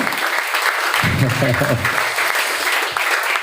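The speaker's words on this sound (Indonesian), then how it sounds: "Tepuk tangan untuk kita hari ini ya." Steady, dense applause from students at a motivational seminar in an Islamic boarding school in Banten, with a speaker's voice briefly talking over it near the start.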